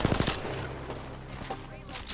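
Video game gunfire: a quick cluster of shots at the start, then sparser distant pops under a background of soft game noise, fairly quiet overall, with no speech during it.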